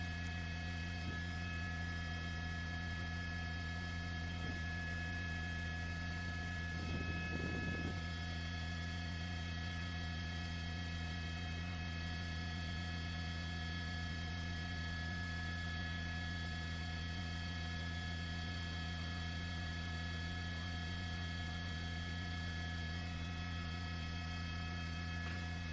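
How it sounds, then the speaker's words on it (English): A helicopter flying over a forest fire in the Cleveland National Forest in California, heard as a steady droning hum with constant tonal whine throughout, unbroken and without talk. "We actually have Captain Killian flying the helicopter today."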